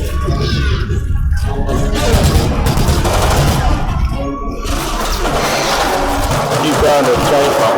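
Dense gunfire fills a firefight in Resident Evil Operation Raccoon City, with rapid overlapping shots and clattering noise all the way through, and voices can be heard beneath the din.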